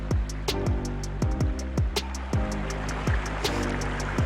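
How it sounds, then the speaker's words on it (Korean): Steady rushing water from a flowing stream in Anyang Art Park, South Korea, in early spring, with continuous bright splashing and bubbling, interrupted by occasional knocking sounds close by. "오늘은 흐르는 물소리가 유독 다르게 들리고 있습니다."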